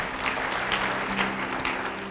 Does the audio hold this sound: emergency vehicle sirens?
no